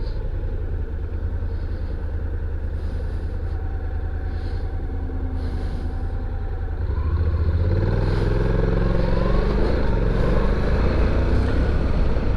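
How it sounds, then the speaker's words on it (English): A 700ND motorcycle ridden in its regular drive mode, engine droning steadily up close with wind rush, then rising in pitch and revving harder toward the end as it gathers speed. "So I've been driving this bike in sport mode. I'm going to put her back in regular drive up here"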